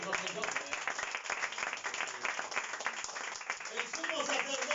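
A church congregation claps together for the Lord during a sermon, a dense, continuous patter of many hands with voices mixed in throughout.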